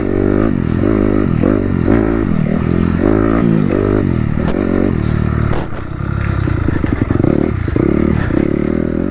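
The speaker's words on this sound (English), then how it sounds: "ripping your bike through the trees" An enduro motorcycle ripped through trees on a woodland practice course: a loud, close engine roars and rises and falls in pitch as it revs hard, with clattering and scraping from the rough ground.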